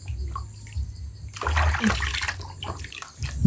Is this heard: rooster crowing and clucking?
no